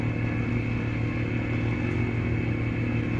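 A motorcycle rides steadily over loose gravel and dirt with small stones on a route in Switzerland, its engine droning continuously up close under a low rumble of tyres and faint clatter, no talk.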